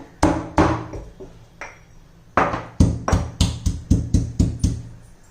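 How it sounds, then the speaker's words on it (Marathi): Green chillies and garlic cloves crushed in a stone mortar, a series of about a dozen sharp, loud pounding thuds, first a few spaced strikes and then a faster even rhythm, close up with no talk. "आपण ह्या दगडाच्या खलबत्त्यामध्ये चार मिरच्या हिरव्या नऊ दहा लसूण पाकळ्या आपण ठेचून घेऊया"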